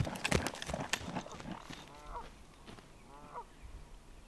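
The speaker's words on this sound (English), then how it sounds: "Bloody geese!" Geese honk in two faint, distant calls outdoors, spaced about a second apart, following a stretch of scattered thumps and clatter.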